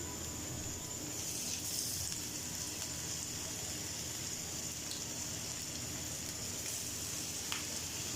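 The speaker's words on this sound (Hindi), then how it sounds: "अभी इसे बिल्कुल लो फ्लेम पे फ्राई करना है ताकि हमारी फ़िश अंदर से अच्छे से कुक हो जाए" Fish deep-fries in hot oil over a low flame, giving a steady, even sizzle and crackle that carries on alone throughout, with occasional small pops.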